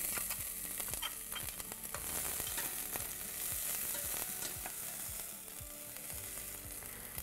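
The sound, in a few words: finely diced onions frying in olive oil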